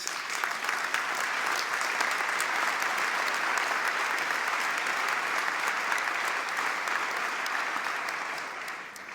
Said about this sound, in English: It's worth an applause